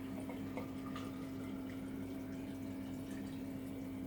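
Brine of water and fine sea salt poured over vegetables in a jar for lacto-fermentation, a soft continuous trickle and splash, faint and steady throughout with a low constant hum beneath.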